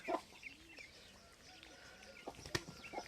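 Roosters facing off on a village farm, a smaller one scaring off a bigger one, give faint scattered clucks with light rustling and a sharper squawk near the end, heard at a distance.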